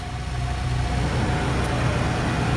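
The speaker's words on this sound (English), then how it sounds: "there's the fan on the car. That's all the noise here." The cooling fan of a car runs as a steady, loud whooshing drone with a low engine hum underneath. It continues unbroken and alone, with no talking.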